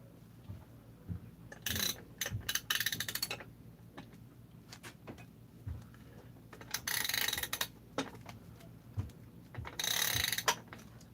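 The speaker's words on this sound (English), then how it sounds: "See? Goes so smooth. This ratchet's on its own." A ratchet on a Husqvarna chainsaw handle being worked by hand, giving bursts of quick, close clicking and rattling that come and go between quieter handling noises.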